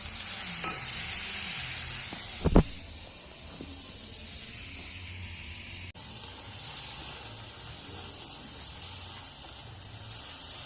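Meat frying in oil in a pan, a steady bright sizzle with a single sharp clank of stirring early on, then continuous hissing alone.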